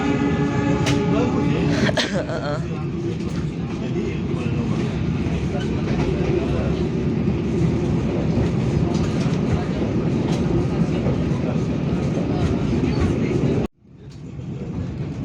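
Kutojaya Selatan passenger train passing at Indihiang station in Indonesia, a loud close rumbling roar with wheel clatter sustained for most of the span before cutting off abruptly, with faint talk underneath.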